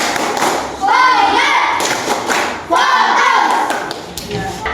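Children in a classroom perform a rhythmic clapping routine, two loud bursts of sharp claps and thumps with voices chanting along.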